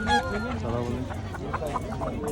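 Chickens and roosters clucking and calling close by amid market bustle, with people talking over the birds.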